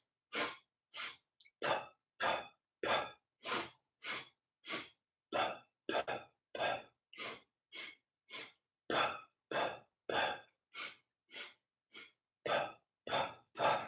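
Rhythmic breathing exercise repeated many times: steady sets of sharp nasal inhales and sniffs, then short puffed exhales, close to the microphone with no talking over them.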